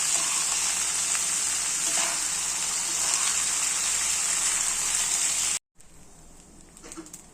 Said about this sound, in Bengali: চালটাকে কিন্তু সময় নিয়ে আস্তে আস্তে ভালো করে ভেজে নিতে হবে।